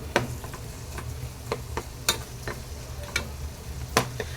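Prawns cook in oil with masala, a faint background sizzle broken by sharp, irregular clicks and taps, close but quiet, with no voices.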